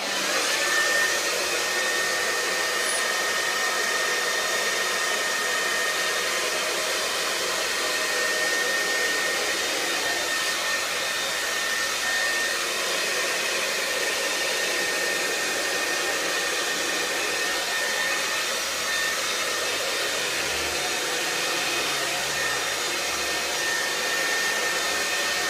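A hair dryer running on the warm setting at high speed, a loud, steady close whoosh and motor whine that holds unchanged throughout, with faint shifts as it passes through hair.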